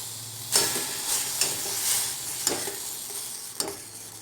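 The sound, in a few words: semolina mixed into boiling water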